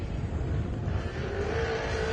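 A pro buggy engine roars steadily at close range during a short-course off-road race, a rough, growling drone holding high revs for a couple of seconds.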